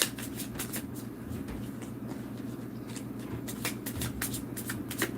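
Tarot cards riffle and flick in repeated quick bursts during a reading, close and crisp, the dry papery shuffling continuing steadily with brief pauses and no talk.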